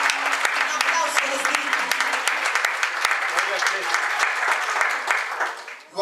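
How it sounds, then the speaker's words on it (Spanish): Church congregation clapping during a bilingual Spanish-English service, a loud sustained round of applause with sharp individual claps and shouts, holding steady for several seconds before dropping away abruptly. "Dale una ofrenda, un aplauso al Espíritu"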